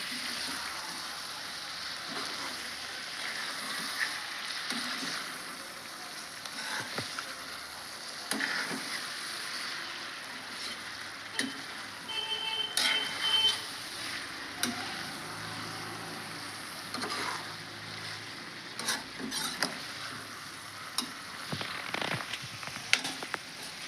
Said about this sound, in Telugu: ఎక్కువ కలపకూడదండి ఊరికి అట్లా పై పైన ఇటు నుంచి అటు అటు నుంచి ఇటు అంతే